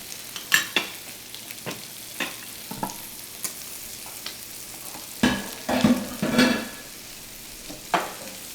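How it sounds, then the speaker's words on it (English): Mushroom risotto stirred in a pan, a spoon scraping and clacking in irregular strokes with a low sizzle underneath, a louder burst of stirring near the end; no voices. "Let's stir it."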